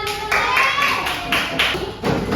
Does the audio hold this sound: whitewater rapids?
no